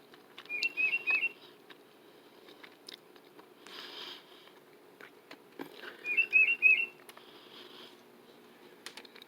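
Tufted titmouse calling near a spot where someone eats breakfast, giving two short bursts of bright chirps several seconds apart, moderately close, with faint background noise between.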